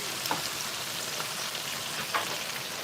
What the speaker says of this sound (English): Fish is bubbling, guys.